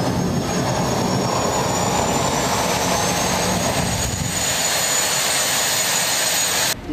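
A locally built jet aircraft engine running on compressed air and fuel gives a steady, loud, continuous roar with a high whine on top, nearby and alone, dropping off abruptly at the very end.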